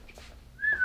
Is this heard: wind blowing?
no